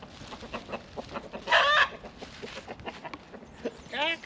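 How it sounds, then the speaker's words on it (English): Chickens cluck in short scattered bursts on a rural homestead, with two loud rooster crows rising above them, one mid-clip and one near the end, close by and with no talking. "The What? chickens don't like me."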